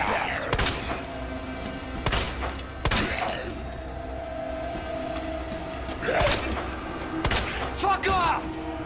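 Gunfire in the video game Resident Evil 2 rings out as several sharp, loud shots spaced across the scene, mixed with game voices shouting.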